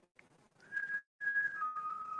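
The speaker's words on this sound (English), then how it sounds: "We were just hearing whistling right before you guys walked in." Faint whistling inside a historic firehouse: a few thin, sustained tones with short breaks between them, heard alone and quietly.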